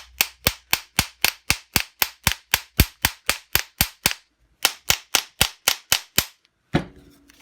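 Hammer blows on a seized Pratt Burnerd three-jaw lathe chuck, a rapid series of about twenty sharp metallic strikes in steady rhythm, a brief pause mid-way, then more hits, loud and close.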